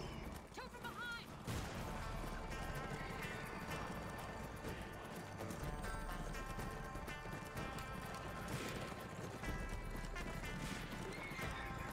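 Rhythmic hoofbeats of a galloping horse with a neigh in the video game Darkwatch, set against loud game music and effects, a voice speaking briefly over it.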